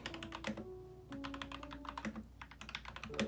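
Rapid, uneven keystrokes clatter on an upgraded custom mechanical keyboard that cost $60, close up and fairly loud, with short pauses between bursts of typing and no talking.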